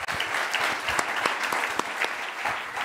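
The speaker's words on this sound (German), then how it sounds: "Auch der kriegt einen kleinen Applaus." Audience applause at a live re:publica 2022 conference talk, a short steady burst of many hands clapping in a hall, fairly close and full for about three seconds with no voices over it.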